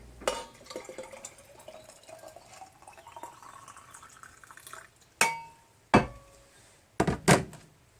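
Water pours steadily into a cup for several seconds, its pitch rising as it fills, then a few sharp knocks and clunks of a kettle or mug.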